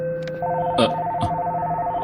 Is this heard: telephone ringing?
yes